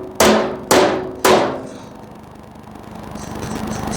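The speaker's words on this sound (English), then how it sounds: "Let's pop that corner in. I'll have to get the hammer." Three sharp metallic hammer strikes land in quick even succession on a sheet metal corner during Power Wagon rust repair, each ringing briefly before a quieter shop background with no talk.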